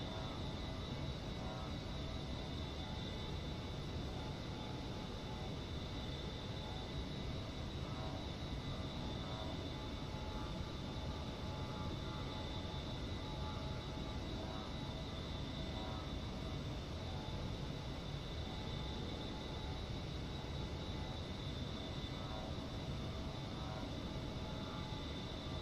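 Jet plane engine in a flight simulator video game, a steady, unbroken drone with a fixed whine, heard alone at low level for the whole stretch.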